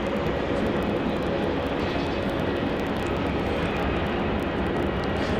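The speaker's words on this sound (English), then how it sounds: "Coming in now on runway 34. What's this one, Sam? JQ971 from Perth, and Airbus A320" A Jetstar Airbus A320 arriving from Perth lands on runway 34 at Melbourne Airport, heard as a loud, continuous broadband engine roar with steady rumble, distant and unbroken, with no talk over it.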